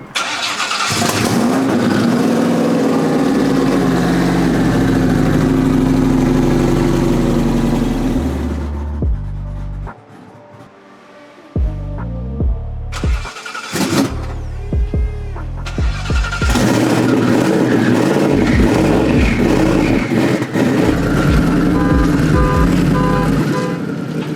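A Ford Mustang S550 engine rumbles loudly at close range, cold and running steadily, then cuts out briefly before firing back up with sharp bursts and settling into a strong idle again.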